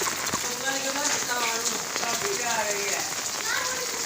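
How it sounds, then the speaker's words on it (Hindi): Heavy rain pours down in a village in January, a dense, steady patter on surfaces close by, while someone speaks over it. "बारिश जोरों पर है"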